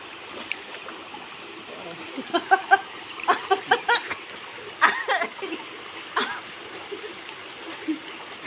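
A clear mountain stream flows steadily nearby with soft splashes, while voices talk over it at intervals.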